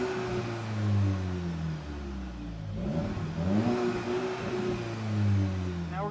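An MK8 GTI with an AWE exhaust revs twice close by, each note climbing and falling back, with a steady idle between and a voice speaking over the middle.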